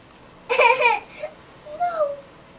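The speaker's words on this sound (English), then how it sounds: "It's the cry of woman, my good lord." A woman's high wailing cry rings out twice in a Macbeth stage performance, a sharp loud burst followed by a fainter, drawn-out second cry against a quiet background.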